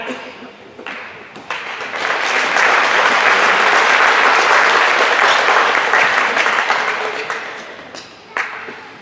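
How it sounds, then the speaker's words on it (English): At an athletic banquet, an audience's sustained applause swells and fills a room for several seconds, then fades out as a voice speaks briefly over the tail end. "We can hold applause until the end"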